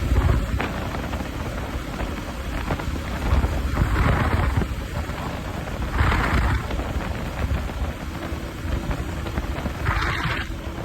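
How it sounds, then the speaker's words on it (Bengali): Heavy rain pours steadily during a motorbike ride, with broad rushing noise throughout and a few deeper rumbles of thunder swelling and fading in the background. "ভালোই বৃষ্টি শুরু হয়ে গেছে।"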